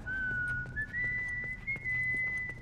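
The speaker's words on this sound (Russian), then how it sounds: "Что, свист? Вот так." A character in The Last of Us video game whistles one steady, slowly rising note, held almost unbroken for nearly three seconds and faint over a low background rumble with light tapping.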